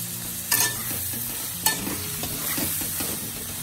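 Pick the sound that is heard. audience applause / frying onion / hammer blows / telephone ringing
frying onion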